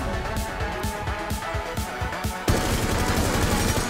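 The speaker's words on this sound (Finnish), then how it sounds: "Ammun ikkunalle. Tai ammun ikkunaan." Video game gunfire aimed at a window: a rapid rhythmic run of sharp shots, then a denser, louder sustained burst of automatic fire up close, with no talking.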